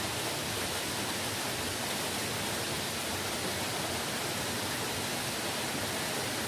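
Hidden waterfall deep in a jungle, a steady broadband rush of falling water filling the whole clip, even and continuous with no voices.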